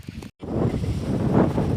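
Wind rushes and buffets against the microphone in a loud, continuous roar, broken only by a momentary cutout near the start.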